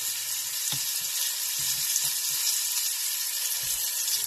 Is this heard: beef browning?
yes